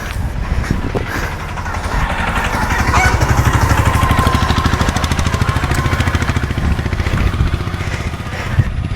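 An auto-rickshaw engine runs close by with a steady, rapid throbbing putter that swells slightly in the middle and holds an even idle-like rhythm throughout, with no voices.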